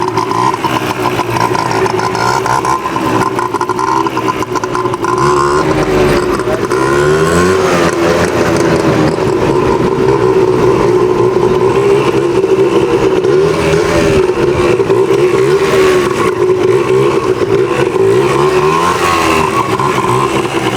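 A motorcycle engine ridden fast through corners, a loud continuous drone whose pitch rises and falls as the throttle opens and eases, close and steady throughout.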